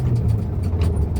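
A Volkswagen Beetle (Fusca) driving in rain through heavy traffic in Joinville, its engine giving a steady low hum with a rough, throbbing tone, close and loud, over a brief stretch without talk.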